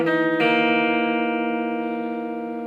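Distorted electric guitar plays the fourth bar of Slayer's Spill The Blood intro riff: a brief pick scrape, then one struck note with rich overtones ringing out and slowly fading, alone and fairly close.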